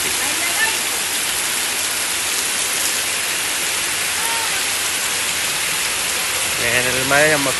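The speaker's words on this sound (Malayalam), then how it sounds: "വേനൽ മഴ ഞമ്മക്കും കിട്ടി മക്കളെ" Summer rain pouring down in a steady, dense hiss that fills the whole stretch, with a voice breaking in briefly at the end.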